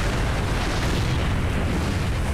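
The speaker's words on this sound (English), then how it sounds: "Explosions and jumps." Explosions rumble during the escape finale of the video game Resident Evil 4, a continuous loud, dense roar of booms and blasts with no pause.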